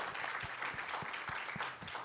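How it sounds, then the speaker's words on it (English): Steady applause from an audience at a Republican Party gathering, a dense, even wash of clapping with no pauses and no talk over it. "you can clap because that's cool"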